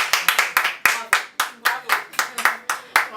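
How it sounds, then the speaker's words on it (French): Close, sharp hand claps beat in a steady rhythm, roughly a dozen strikes spaced evenly apart, like applause kept in time. "Donc je pense qu'il faut l'applaudir."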